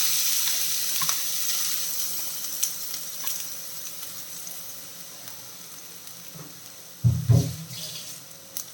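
Ground coconut paste is stirred into salted, cooked raw jackfruit curry over a low flame, giving a soft sizzle with light scraping, then a louder pan clatter near the end.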